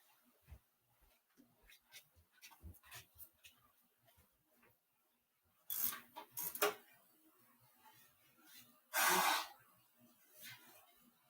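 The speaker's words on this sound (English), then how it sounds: "I gotta go blow my nose" Quiet rustling and breathing, then two loud, harsh nose blows close to the microphone, the second longer and stronger.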